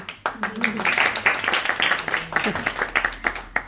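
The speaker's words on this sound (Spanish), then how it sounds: "Te aplaudimos" Audience at a book presentation in a bookshop claps briefly, scattered hand claps mixed with people talking over them.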